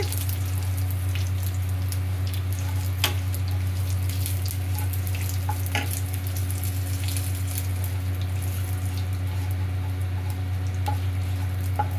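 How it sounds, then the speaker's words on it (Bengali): Shiuli leaves and half a bay leaf fry in a pan with a soft, continuous sizzle and occasional stirring clicks, over a steady low hum. "এবার এটাকে এরকম করে নাড়বো, শিউলি পত্রগুলো একটু ভাজা ভাজা হলে"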